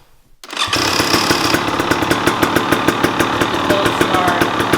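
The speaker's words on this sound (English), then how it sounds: "All right, sound test one, stock exhaust." A 2023 KTM 300 XC TBI dirt bike with its stock exhaust catches and starts, then settles into a steady, loud, close idle with an even, rapid pulsing beat.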